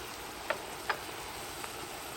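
A sloppy joe mixture of ground meat fries in a pan as red peppers are added. It sizzles with a steady, soft hiss, and two light knocks stand out early as the peppers drop in.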